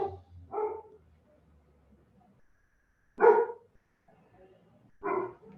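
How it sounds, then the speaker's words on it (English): Dogs bark in bursts at a distance, three separate clusters of barks spread across a few seconds with quiet gaps between them, heard in a calm indoor setting. "So there's noise in the background, barking dogs"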